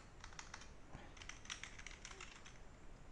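Typing on a computer keyboard, a quiet, steady run of light key clicks at close range with no voices.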